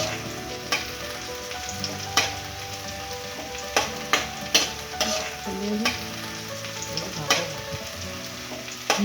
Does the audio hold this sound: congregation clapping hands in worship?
no